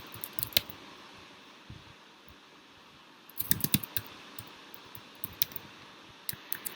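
Computer keyboard typing an email address: quiet, irregular keystroke clicks in short bursts with pauses, close and faint over a low steady room hum.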